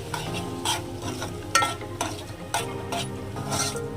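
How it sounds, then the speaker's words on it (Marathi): Onion-coconut masala paste fries in oil in a pan for Malvani-style chicken curry, a steady close sizzle broken by several sharp scraping stirs of a spoon against the pan. "मला तेल सुटेपर्यंत चांगलं वाटण फ्राय करून घ्यायचं तेलामध्ये"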